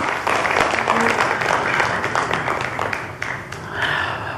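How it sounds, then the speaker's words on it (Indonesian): Studio audience applauding on an Indonesian television talk show set, a broad wash of clapping that runs steadily throughout, loud and close, with no break. "Sebelumnya saya minta aplaus dulu untuk Tata Janeta untuk Negeri di Atas Awan"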